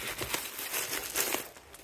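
Tissue paper crinkles and rustles up close, a soft continuous crumpling with a few brief louder bursts.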